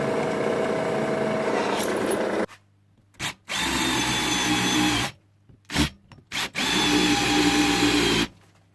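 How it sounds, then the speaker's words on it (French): A power drill bores and chamfers two fixing holes in a metal bracket, loud whining bursts of drilling separated by short pauses and brief spin-ups. "je vais percer et chanfreiner deux trous qui seront les trous de fixation de l'équerre"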